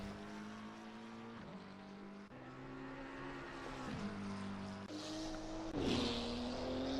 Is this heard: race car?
yes